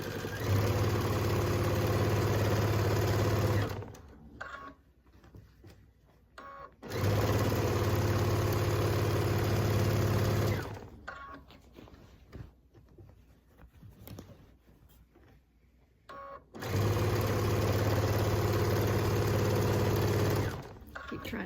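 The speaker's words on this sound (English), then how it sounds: "So we're going to keep stitching till we get to the other corner and do it again." A sewing machine stitches a quilt binding in three long loud bursts of steady whirring, separated by quieter pauses with soft handling noises as the fabric is adjusted.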